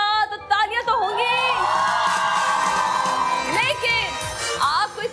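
A studio audience on an Eid special morning TV show cheers and whoops loudly, with crowd shouts blending together under a presenter's voice throughout.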